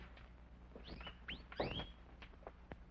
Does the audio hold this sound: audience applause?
no